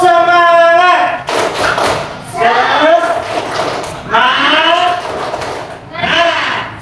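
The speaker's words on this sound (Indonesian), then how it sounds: "Kita buat tepuk semangat" Classroom of primary school students doing a rhythmic spirit clap and chant, with sharp hand-clap bursts in patterned groups mixed with loud shouted voices, close and energetic.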